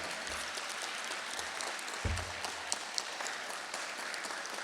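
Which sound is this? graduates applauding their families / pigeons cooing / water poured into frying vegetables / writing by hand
graduates applauding their families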